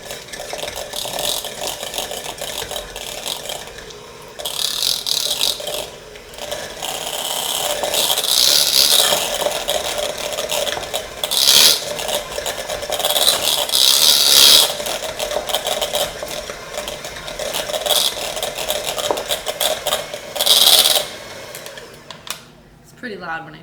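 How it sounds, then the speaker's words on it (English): Electric mixer creaming cream cheese in a mixing bowl for cupcakes, a loud whirring motor with bursts of harsh scraping as the beaters and spatula work against the bowl. "Pretty loud when I scrape the bowl"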